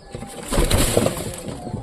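Pigeons settle down one by one to peck at a small handful of mustard seed, giving a low rustle of wings and scattered soft coos that swell briefly in the middle, nearby and fairly quiet.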